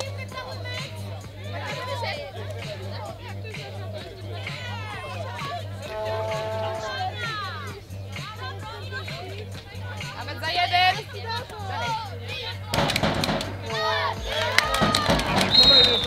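Crowd at a women's final of the Polish junior championship in Kąty Wrocławskie, a steady hubbub of cheering, shouting and chanting that swells louder near the end, with an announcer's amplified voice over it.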